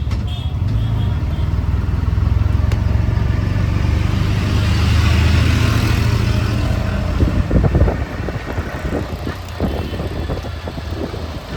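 An auto rickshaw engine drones steadily through city traffic, with its pitch and loudness dropping around the eighth second as the driver shifts into third gear, followed by a rougher, choppier running sound.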